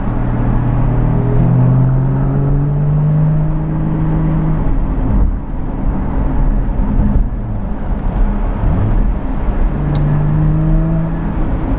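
Exhaust of a Porsche RS sports car heard from a following Cayman GT4 on the road, a loud steady engine drone with rising and falling revs across the whole stretch, no talking.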